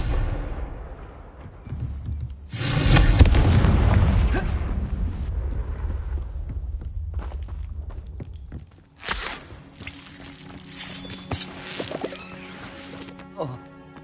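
A Confringo blasting spell goes off in the video game Hogwarts Legacy: a heavy, rumbling explosion that swells and lingers for a couple of seconds, followed by sharp impacts and scattered game effects.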